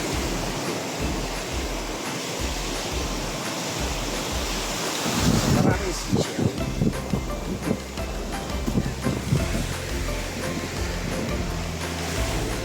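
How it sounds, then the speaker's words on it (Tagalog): Strong wind buffets the microphone while waves surge and break on a rainy seashore, a constant roaring wash with louder gusts and crashes in the middle, and no voices. "Lakas ng hangin."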